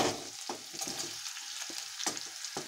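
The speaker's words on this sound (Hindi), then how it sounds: "अब मैं इसमें प्याज डालूंगी" Onions frying in a pan for a curd and capsicum curry, a soft sizzle punctuated by several sharp spatula scrapes and taps at irregular intervals, close and without speech.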